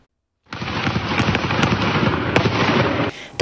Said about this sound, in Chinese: 大街上枪声四起